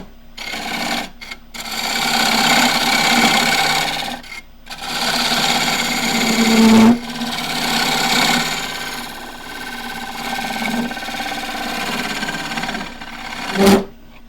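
A slightly radiused wood-lathe scraper cuts across the flat surface of a turned wooden tray, giving a steady, close rasping whir that runs in long passes broken by brief pauses.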